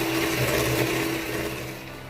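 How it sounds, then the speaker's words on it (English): An electric mixer whisking eggs and sugar for a lemon pound cake batter, a steady close motor whir with a churning texture that eases slightly toward the end. "I'm going to use an electric mixer to whisk the eggs and the sugar together."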